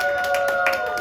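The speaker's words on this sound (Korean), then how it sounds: "자, 박수." A short burst of scattered hand clapping from a small group at a church high-school worship service, fairly faint, with a steady hum underneath.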